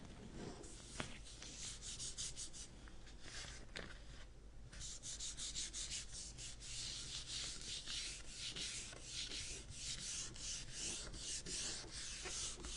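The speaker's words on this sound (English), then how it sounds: "I may have some to sand off at the bottom." Continuous hand sanding on a wooden cutting board, a dry scratchy rasp in quick back-and-forth strokes, close and steady with a short pause midway.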